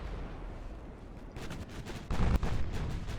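Naval guns boom in the warship game Ultimate Admiral Dreadnoughts, a series of distant thuds building into a heavier cluster of blasts near the end.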